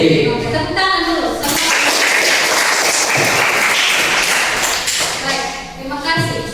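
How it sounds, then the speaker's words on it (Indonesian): A classroom of students breaks into dense, steady clapping that swells for several seconds, then tapers off as a teacher's voice returns. "Oke, tepuk tangan dulu."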